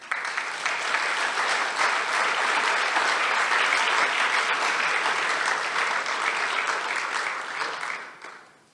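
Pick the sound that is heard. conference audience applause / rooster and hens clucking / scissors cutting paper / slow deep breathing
conference audience applause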